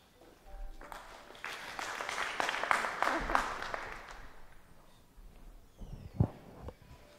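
An indoor audience applauds to welcome speakers at an art museum talk. The clapping is moderate and builds to a peak, then thins out as a voice begins speaking over the last scattered claps.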